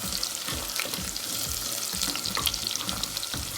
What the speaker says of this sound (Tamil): சின்ன வெங்காயத்தை எடுத்து போட்டுருங்க. ஆமாம் சொல்லுது. இதெல்லாம் ஆட் பண்ணி கிளறி விட்டுருங்க.